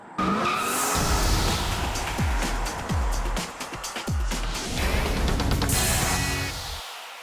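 A 2014 Mercedes-Benz E250 BlueTEC diesel sedan drives hard with its tires squealing and skidding repeatedly, loud and close, with the engine note under the screeching rubber.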